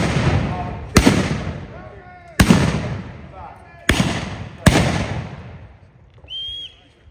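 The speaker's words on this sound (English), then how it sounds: "While he's loading, the other man covers him. When he's loaded, he hits the target and fires." Rifles fire at a living history reenactment festival: four loud, sharp shots ring out at uneven intervals, each followed by a long rolling echo, with a shouted voice and a brief whistle-like tone near the end.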